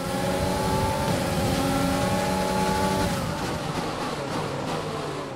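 F1 race cars in F1 2020 scream at high revs in close wheel-to-wheel racing, with steady loud engine whine, shifting pitches and tire noise, cars bunched close and passing, easing slightly toward the end.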